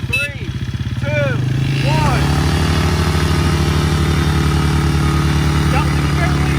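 A Polaris Outlaw 110 EFI and a Suzuki LT80 youth ATV race side by side. Their small engines rev up in sharp, rising bursts, then settle into a steady, loud, close buzzing drone.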